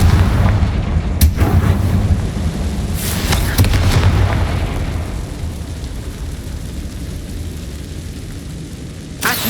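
Confringo spells in the video game Hogwarts Legacy set off heavy explosions, with deep booming blasts and sharp cracks up front and a rumbling tail that fades before one last burst.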